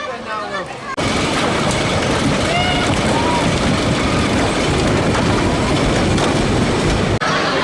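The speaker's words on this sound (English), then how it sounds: "I'm going to go for a ride on Nickelodeon Streak now. Classic wooden coaster that opened in 1932." The 1932 wooden roller coaster Nickelodeon Streak at Blackpool Pleasure Beach runs loud and continuous, with rattling clickety-clack and wheel roar. Riders scream and shout over the noise until it stops abruptly.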